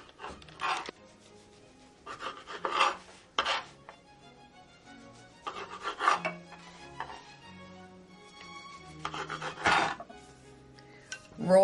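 Slices of white bread having their crusts cut off, with soft knife cuts and taps on a board and a few dish knocks in short bursts, while a dog barks now and then nearby.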